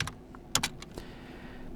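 A few sparse keystrokes on a computer keyboard while entering a Bash alias command in a Linux terminal, quiet, close clicks spaced apart with near-silence between them.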